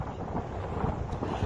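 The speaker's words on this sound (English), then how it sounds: "it's windy as a motherfucker out here" Strong wind gusting across the microphone beside a partly frozen lake, a continuous low rumbling buffet with no other sounds.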